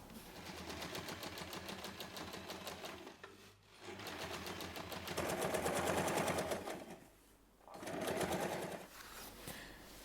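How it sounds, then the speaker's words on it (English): A sewing machine stitches together fabric panels of a color block tote bag, its needle hammering in fast, steady bursts that pause briefly twice before resuming, loud and close with no talking. "Place the second top panel right sides together with the bottom panel. Sew them together."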